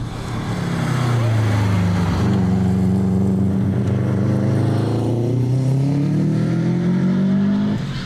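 A tuned Subaru WRX STI engine drones loud and close, holding steady revs around 4,000 RPM with rising and falling pitch sweeps as it pulls through the gears, the exhaust roar filling the whole stretch.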